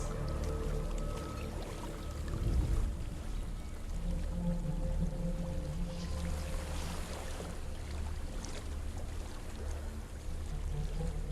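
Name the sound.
waterfall in the Hellblade video game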